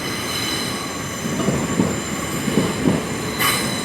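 Class 802 unit at London Paddington on a service to Bristol Temple Meads, a close steady hum of the train with high squealing tones, rhythmic low wheel thumps and a brief hiss near the end.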